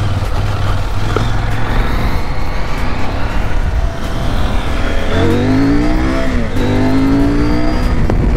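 CFMOTO 800MT Touring motorcycle engine revs and accelerates with a loud, continuous roar, pitch climbing in two rising sweeps near the end, no voices over it.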